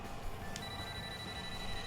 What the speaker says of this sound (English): Holy shit, we're actually getting a phone call right now